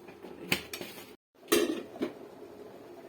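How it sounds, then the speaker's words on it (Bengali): A lid goes onto a cooking pot in two metallic clanks with a short silence between, close and moderately loud, no voices. "ঢাকনা দিয়ে ঢেকে দেই"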